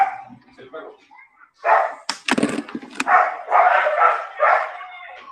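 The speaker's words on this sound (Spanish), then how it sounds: "El perro." A dog barks nearby in a few sharp yips and bursts, mixed with people talking.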